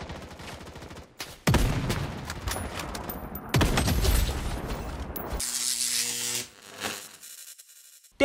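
Gunfire from a free mobile first-person shooter game comes in two loud, sustained bursts of rapid shots with crackling tails, followed by a stretch of mechanical rattling.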